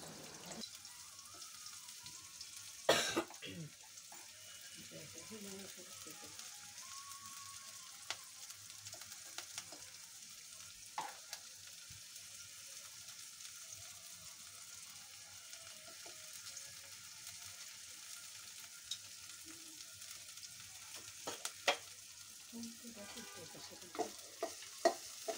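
Chopped potatoes fry in the oil left from frying fish, a faint, quiet sizzle with scattered clicks and occasional sharper spatters over a long stretch, no voices.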